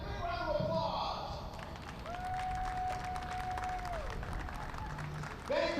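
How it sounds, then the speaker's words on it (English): Scattered clapping and crowd noise fill the space at a game between Taiwan and Azusa, California, while a voice carries over a public address system, with a sustained electronic tone partway through. "Big round of applause."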